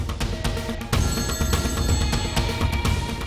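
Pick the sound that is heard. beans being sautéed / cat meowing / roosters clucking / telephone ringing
telephone ringing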